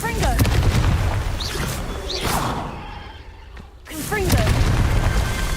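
Confringo fire spells explode in Hogwarts Legacy as loud, booming blasts, several in succession with rumbling tails. A short quieter gap falls between bursts, and a voice speaks over the din.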